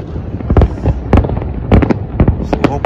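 Fireworks display at Yas Bay on Yas Island, Abu Dhabi, for the UAE's 50th anniversary: a series of loud, close booms and crackling bursts in an irregular rhythm, with crowd voices underneath.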